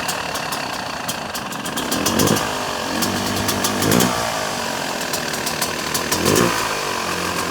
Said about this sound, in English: Let's check out the bike running.